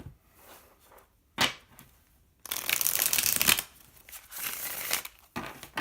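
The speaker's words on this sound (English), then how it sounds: "I would like to shuffle them for you so you can see how nice they shuffle." Tarot cards being shuffled close up: a few soft riffles and taps, then a long crisp flutter of cards, followed by shorter shuffling bursts.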